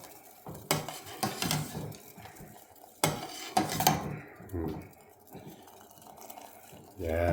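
A teaspoon of cardamom is spooned into a pot of homemade chai: a few sharp metallic clinks and scrapes of the spoon against the cookware, in separate bursts with quieter handling between them. A voice speaks in the background.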